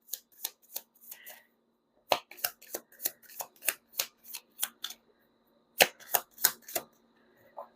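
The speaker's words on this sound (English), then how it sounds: "Ooh, cards are flying out." Tarot cards being shuffled by hand, giving a series of sharp riffling bursts in quick rhythmic clusters with a short pause midway, close and fairly quiet.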